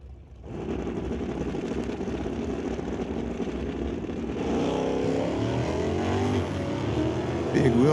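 An '88 Mustang and a '68 Acadian launch side by side at a drag strip, their engines building into a loud, rising roar, with an announcer talking over the noise.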